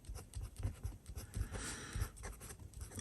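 Fude nib fountain pen writing in Quink Blue on paper, a faint, close scratchy rhythm of quick pen strokes that keeps going throughout.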